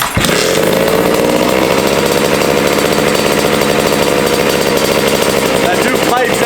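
A 1982 Honda MB5 two-stroke motorcycle engine with a new exhaust pipe runs loud and close, a continuous buzzing rattle that holds steady after a short start, with voices faintly underneath.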